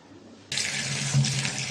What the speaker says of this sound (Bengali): আমরাগুলো ধুয়ে নিলাম